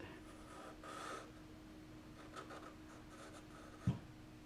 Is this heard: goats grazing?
no